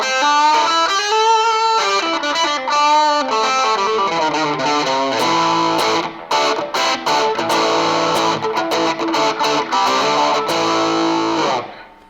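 An electric guitar played through a Pro Co Rat distortion pedal with its filter knob turned down sounds bright and gritty, first as picked chords and note runs and then as sustained, heavily distorted strummed chords, loud and alone.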